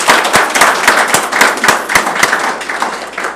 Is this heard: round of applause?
yes